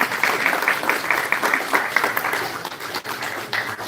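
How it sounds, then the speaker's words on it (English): Conference audience at an EMI Congress applauding themselves, a loud, continuous spread of many hands clapping in a large hall, holding steady for several seconds with occasional sharper individual claps. "Please give yourself a big round of applause."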